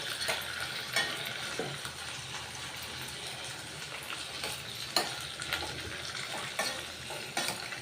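Brinjal pieces sizzle loudly in a hot tempering of oil for a curry, a steady crackling fry close by with scattered scrapes and clinks of a spoon against the pan.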